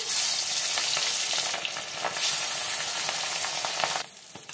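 Katla fish rubbed with salt and turmeric frying in hot mustard oil in a kadai, a loud, dense, steady sizzle close up that drops off slightly near the end.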